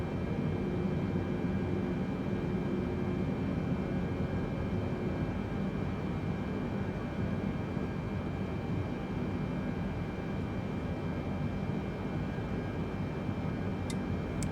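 Boeing 747-8i jet engines running in a flight simulator game, a steady even roar with a constant high whine on top, unbroken for the whole stretch and with no talking.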